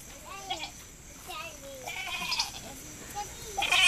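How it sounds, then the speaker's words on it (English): A mother goat and her five-day-old kid bleat in several short, wavering calls in a farm setting, with voices talking nearby throughout. "That's the mama goat right here."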